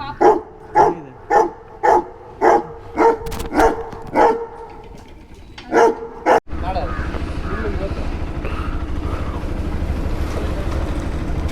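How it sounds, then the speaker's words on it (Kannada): A dog barks in a steady series of about nine sharp barks near the microphone, after which a loud Kawasaki ZX10R superbike engine takes over with a continuous roar. "ನಾಯಿ ಕಷ್ಟ ಇಲ್ಲ ಅಕ್ಕ, ನಾಯಿ ಐತೆ."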